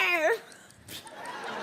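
A person on a French TV game show imitating a dog: a short, whiny, yelping vocal glide at the start, then faint noise and background murmur from the studio.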